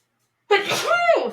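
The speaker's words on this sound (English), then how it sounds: "I'm gonna sneeze." A single loud sneeze bursts out after a moment of silence, close to the listener.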